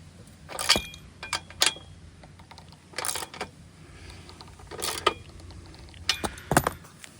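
Metal bolt and hardware clinking and rattling in hand while being fitted onto an OutfitR 3-bike hitch e-bike carrier rack, several short separate bursts of jingling metal, fairly close, no talking.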